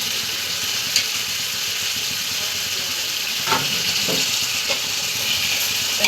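Mint and coriander sauté in hot oil for chicken biryani, giving a continuous loud sizzling hiss close by, with a few faint stirring knocks.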